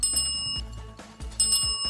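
A notification bell effect chimes twice, each bright metallic ring layered over short thumping hits and a low hum, loud and close with no voices.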